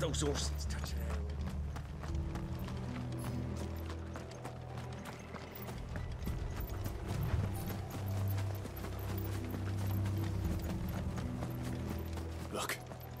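Horses gallop in a Final Fantasy XVI game scene, a steady rumble of running hooves with clip-clop beats running under continuous voices and background score.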